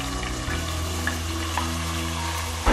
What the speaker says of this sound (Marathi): आणि आपण आता कांदा घालून घेऊया।